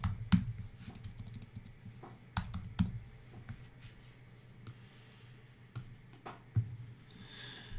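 Typing on a computer keyboard, close and fairly quiet, with irregular bursts of sharp key clicks separated by short pauses and a little soft breathing in the background.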